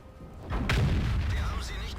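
Tank cannon firing in World of Tanks during an E100 heavy tank match, one deep booming shot followed by a rumbling low tail that fades over about a second and a half.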